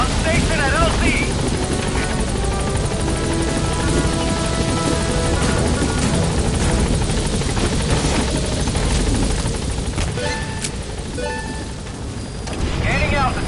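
A support helicopter in Metal Gear Solid V sets down at a landing zone and lifts off again, its rotor thumping loudly and continuously from near, the pitch shifting slightly toward the end, with no speech.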